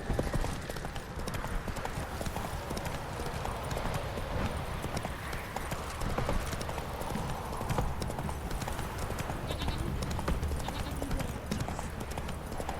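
Horse hooves clip-clop at a steady trot in The Witcher 3: Hearts of Stone. The rhythmic hoofbeats are moderately loud and continuous, with faint game ambience beneath.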